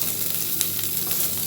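Potatoes frying in oil with masala for a potato fry, a steady close-up sizzle with a faint stirring scrape.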